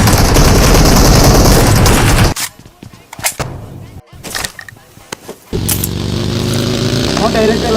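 A motorcycle in a multiplayer shooter video game drones steadily at first, then gives way to sharp gunshot bursts and clatter, and the engine returns with a sustained hum toward the end.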